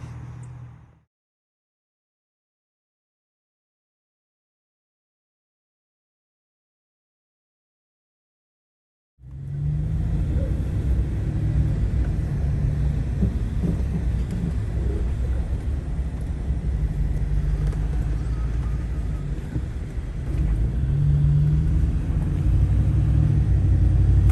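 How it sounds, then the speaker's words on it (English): Car driving along a rural road on a 146-acre property's southern boundary, a steady low engine rumble and road noise from inside the vehicle that starts after a stretch of silence and continues evenly, no voices. "I'm going to drive that in just a minute and let you get a look at it"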